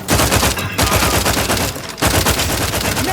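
Rapid gunfire from The Outer Worlds 2 hammers out in fast, loud bursts over three seconds, broken by two brief pauses, with no talk over it.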